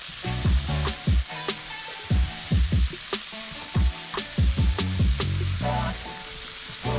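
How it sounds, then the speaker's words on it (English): Vegetables and corn sizzle in a hot pan for egg fried rice while a utensil scrapes and stirs in repeated strokes, close and fairly loud. "Stir-fry them gently."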